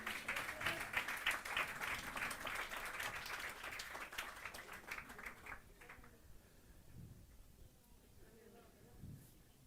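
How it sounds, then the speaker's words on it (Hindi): Guests at Revd. John Patrick's 77th birthday celebration give a burst of loud, crowded applause that rings for about six seconds, then dies away to a quiet room with faint voices. "मैं चाहूँगा एक बार ज़ोरदार तालियां बजा दें।"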